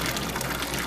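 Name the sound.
brown tap water running from a faucet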